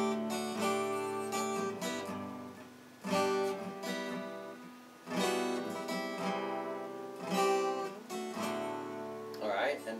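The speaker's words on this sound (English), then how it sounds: "that's a basic chord progression for the entire song" An acoustic guitar plays the chord progression of a country song, with strummed chords ringing out in a steady rhythm, each new chord starting with a clear attack before it fades.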